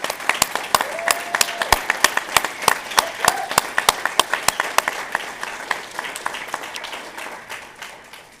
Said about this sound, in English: Please join me in that final round of applause